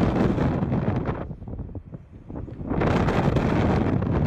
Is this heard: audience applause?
no